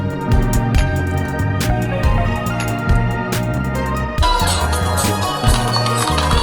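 Subway Surfers mobile game audio playing from a phone and picked up by a microphone: a steady loud beat-driven music loop with sharp percussive hits, shifting to a busier section partway through, with no talking.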